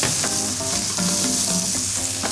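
Mushrooms frying in a hot pan to brown them, giving a steady close sizzle and crackle that runs throughout, with faint clinks of the pan and utensil and no voices.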